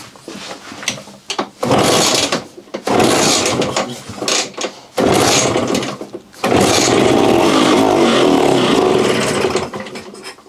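A junkyard Vespa PX125 scooter engine cranks in short bursts, then catches and runs, its buzzy two-stroke clatter holding steady and loud near the end.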